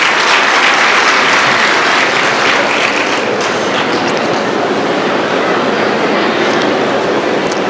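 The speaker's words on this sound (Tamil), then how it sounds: "அதுக்கே ஒரு கைத்தட்டல் கொடுத்துடலாம்" A seated audience at a comedy speech bursts into loud, sustained applause, dense clapping filling the whole span with no talk over it.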